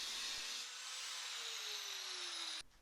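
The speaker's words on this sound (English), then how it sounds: "I decided to cut across through the plate. The cutting discs are narrow enough to do this." An angle grinder's thin cutting disc slicing across a metal plate on a 1980 Opel Kadett historic rally car, a loud continuous high whine that shifts slightly in pitch before stopping abruptly.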